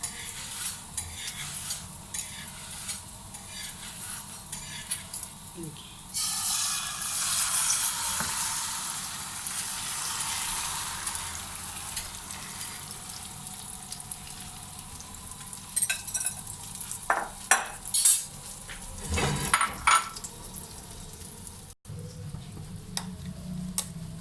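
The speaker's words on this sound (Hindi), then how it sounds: "2 से 3 चम्मच ऑयल डाल के उसमें ऑमलेट बनाएंगे।" An omelette fries in oil in a hot pan with a steady sizzle that swells into a loud hiss as the egg hits the oil, then settles under scattered utensil scrapes and taps, without speech.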